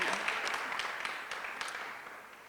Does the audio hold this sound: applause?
yes